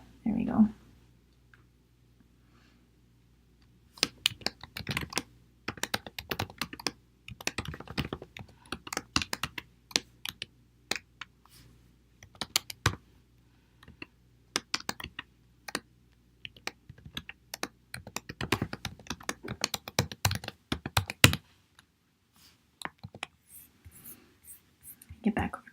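Code is typed on a computer keyboard in quick, uneven bursts of crisp key clicks, with short pauses between runs and a longer stretch of steady typing near the middle. No talking is heard.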